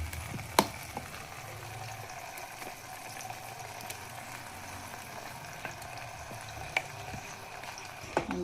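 Masala spices frying in hot oil, a steady close sizzle with occasional small pops and stirring clicks, no voices.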